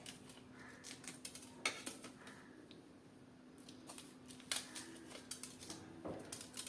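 Green chillies, with caps trimmed and seeds removed for an instant oil-free pickle, are sliced with a knife: irregular crisp clicks and taps on a board, coming in quick clusters with short pauses, close and fairly quiet.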